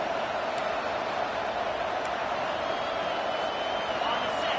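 Stadium crowd in a college football video game, Iowa versus USC, a steady dense roar of massed voices holding at an even level throughout, with no distinct peaks.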